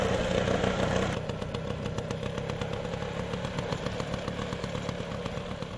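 A scooter engine running in fourth gear, part of a young farmer's homemade machine, giving a steady, rapid, buzzing drone with rattling clatter that stays even and close throughout.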